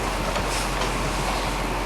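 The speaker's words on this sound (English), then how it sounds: "We hear a train." A train rumbles past with a steady, dense roar and faint clattering, loud and continuous throughout.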